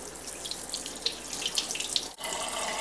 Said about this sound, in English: Make sure you run water through the insides and clean the cavity.